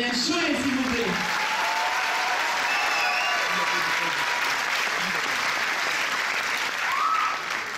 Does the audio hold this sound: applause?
yes